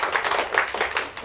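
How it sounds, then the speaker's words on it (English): An audience at an exhibition launch event gives a short burst of dense clapping, moderately loud and close, fading slightly toward the end. "Maybe a quick round of applause"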